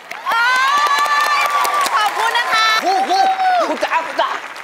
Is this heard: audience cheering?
yes